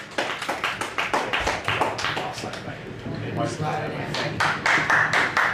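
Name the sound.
audience applause for a performer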